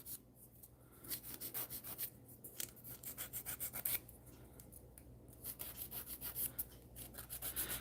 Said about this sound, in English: Now I'm filing the nubs.